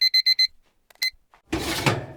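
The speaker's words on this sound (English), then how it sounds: "Did you hear that? I think it's our timer." A kitchen timer goes off while bread bakes: four quick, evenly spaced electronic beeps, then a single louder beep, followed by a burst of broadband clatter or rustling nearby.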